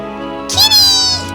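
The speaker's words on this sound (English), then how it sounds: "Is that a cat?" A cat meows once in the Trails of Cold Steel video game, a clear, rising and falling mew lasting under a second that stands out over steady background game music.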